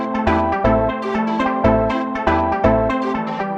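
A synth melody from a Studio One production session, transposed to half time, plays loud and alone with punchy low bass notes beneath a bright, buzzy lead in a repeating bouncy pattern.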